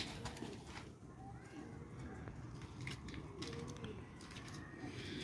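Large pet pigeons give soft, low cooing calls close by in a loft, repeated murmurs over a hissy background, with some light fluttering and small knocks.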